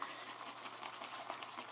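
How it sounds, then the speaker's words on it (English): Water trickling and splashing softly as it is added to a thirsty shaving soap in a tub, a steady close, quiet liquid wash with faint bubbling and fizz throughout. "I'm adding water."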